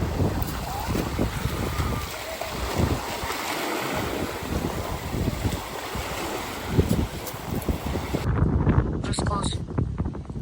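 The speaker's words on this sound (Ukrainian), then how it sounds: "Дуже вітряно." Strong gusts buffet the microphone over crashing Black Sea surf at Karolino-Buhaz, with voices talking faintly beneath the roar of wind.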